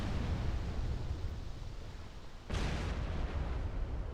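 Artillery in the video game Escape from Tarkov on the USEC coastline, a continuous low rumble of distant shelling with a sharper burst of impact landing near the middle, no voices.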